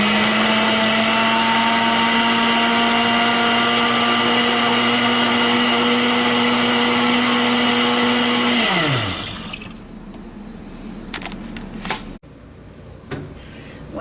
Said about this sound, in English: put all the oil, the garlic, and the sage into a blender